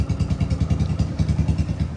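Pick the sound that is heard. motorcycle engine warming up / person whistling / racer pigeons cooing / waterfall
motorcycle engine warming up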